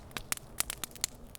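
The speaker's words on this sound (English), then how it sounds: "this is the sound of a plant being burned" Scotch broom plant burning, giving off sharp irregular crackles and pops over a faint low rumble, each snap brief and spaced unevenly.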